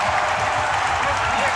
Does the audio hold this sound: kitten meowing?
no